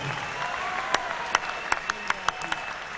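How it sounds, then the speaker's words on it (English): Applause after a kickboxing bout, honouring Taivita "TNT" Tai from the red corner following a unanimous decision loss; a steady crowd clatter runs throughout, broken by several sharp, louder claps and whoops standing out near the front. "a round of applause for the man out of the red corner, Taivita TNT Tai"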